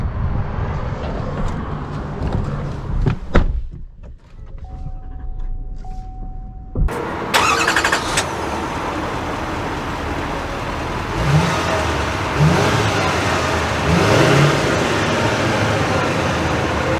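A 2022 GMC Sierra 3500 AT4 pickup starts with a brief crank, and its engine settles into a steady idle, then rises into a continuous rumble as the truck drives off.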